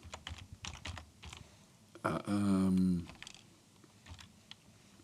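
Quick keystrokes on a computer keyboard during a Dwarf Fortress session, scattered taps early on, then a denser burst of typing with a low tonal hum underneath, and a few more isolated clicks toward the end.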